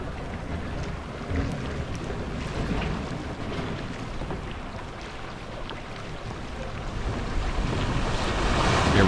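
Rushing water effects from the Planet Coaster game as a roller coaster nears its final drop, a steady broadband wash of surf-like noise that swells louder toward the end, with no talk.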